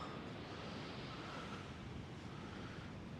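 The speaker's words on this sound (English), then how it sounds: "It's really nice to sleep to the sound of the waves" Atlantic surf rolls onto the coast in a steady broad wash of breaking waves, mixed with wind buffeting the microphone, continuous and fairly faint with no voices.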